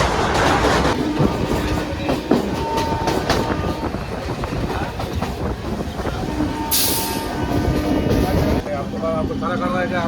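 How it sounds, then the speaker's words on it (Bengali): A local train running on rails near Burdwan station, with loud continuous rumbling and clickety-clack from inside the carriage, a brief high squeal or hiss partway through, and people talking over the noise. "এখন আছে লোকাল ট্রেনে, এরপর যাবো এক্সপ্রেস ট্রেনে।"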